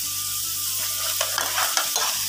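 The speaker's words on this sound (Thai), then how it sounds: "ผัดคลุกเคล้าให้เข้ากันนะครับ" Minced pork with diced carrot and sliced shiitake mushrooms stir-fried in a pan, a bright constant sizzle with scraping stirs and a few spatula knocks, close and fairly loud, no voices.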